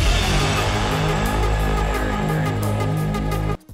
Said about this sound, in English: And it has this vocoder voice.